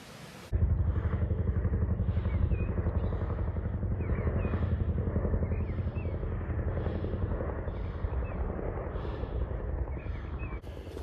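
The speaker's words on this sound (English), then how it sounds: "Chinook helicopter there" A heavy Chinook helicopter drones loudly overhead, its deep rotor thumping in a steady, pulsing rhythm that swells and fades slightly over time.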